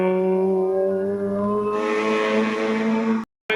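A blue BMW E36 Group N race car climbing the Orbec hill climb course, its engine droning with strong harmonics and shifting pitch up as it accelerates, loud and close, then cutting off abruptly.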